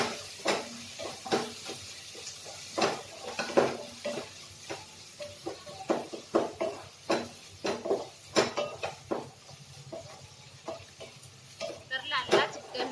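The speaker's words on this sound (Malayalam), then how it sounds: "ഇനി ഇത് പൊടികളെല്ലാം ചേർത്തിട്ട് നന്നായിട്ട് നമുക്കിത് അതിൻ്റെ പച്ചമണം മാറുന്നിടം വരെ വഴറ്റിയെടുക്കാം" Spice powders being sautéed in a pan for chicken curry, with a quiet sizzle under repeated sharp clinks and scrapes of a spoon against the pan, close and irregular.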